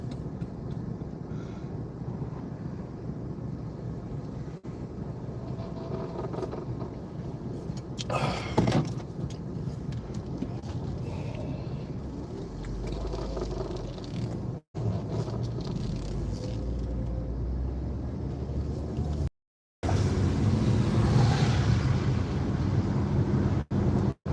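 A car driving along with steady road rumble and wind noise, continuous and close, with a few brief dropouts and bumps along the way.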